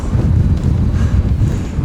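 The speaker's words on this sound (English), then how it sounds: "the wind up on top of this ridge today is brutal" Strong, steady wind buffets the microphone on top of a dry ridge, a continuous low roar with gusty surges and no voices.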